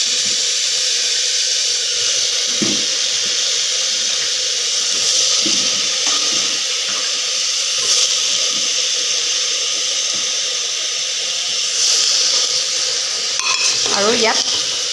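Fried dal with chili is poured into a pressure cooker, giving a steady, continuous wet hiss and rush of liquid for the whole stretch, close by, with faint knocks near the end.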